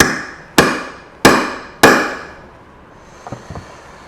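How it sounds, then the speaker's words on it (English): A nail set is tapped with a hammer to recess a brad nail into wood: three sharp, evenly spaced taps ring out close and loud, each decaying quickly, followed by a couple of faint small knocks. "I'm going to take a nail set and I'm going to tap it to recess it back into the wood"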